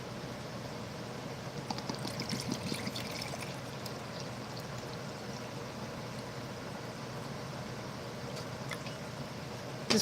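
Water pours from a 750 ml bottle in one continuous, quiet stream lasting about ten seconds, with no voices over it.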